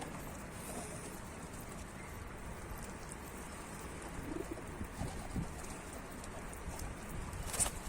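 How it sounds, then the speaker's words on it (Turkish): Soft cooing of a tumbler pigeon, faint and somewhat distant, heard over steady rain-like background hiss with no speech. "Şöyle bir dönek herhalde."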